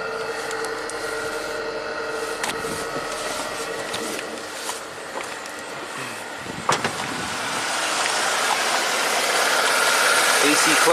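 Buick 3800 V6 idling steadily under the hood with the A/C compressor clutch engaged and spinning, a close mechanical hum and whir with a few clicks, rising slightly toward the end.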